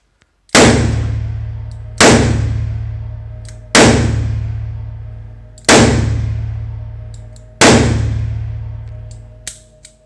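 Five loud, sharp revolver shots from a Smith & Wesson 340 PD, spaced roughly one and a half seconds apart, each with a ringing decay and no talking between them.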